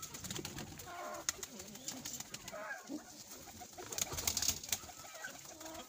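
Teddy pigeons, Kasuri breed, cooing close by in soft, low, repeated rolling calls, with occasional clicks and wing shuffles in the background.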